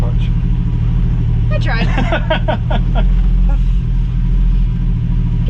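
A 1965 Ford Mustang restomod engine idles while warming up, a loud steady low rumble close by that continues under a brief stretch of talk.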